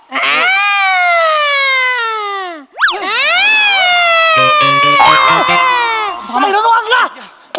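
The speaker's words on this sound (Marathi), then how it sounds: "हा वाजला तो सायरन" A comedic siren sound effect in a Marathi comedy sketch: loud, harmonic wailing tones that glide up and down continuously, with warbling pitch sweeps and a short break midway.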